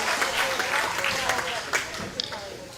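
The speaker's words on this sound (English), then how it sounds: "Let's give all the exhibitors in this class a nice round of applause." Audience applause for exhibitors at a county fair hog show, a broad steady wash of clapping from the crowd lasting throughout, with an announcer's voice running over it.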